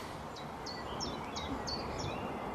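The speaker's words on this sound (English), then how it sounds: "I think it's a thrush, a mistletoe" A mistletoe thrush sings outdoors: a string of about six short, high, clipped phrases, fairly faint, over a constant hiss of wind and background noise.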